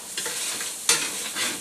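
Fat cooking in a pan gives a steady sizzle with stirring scrapes, including a sharper burst of frying near the middle, close and fairly loud with no talk.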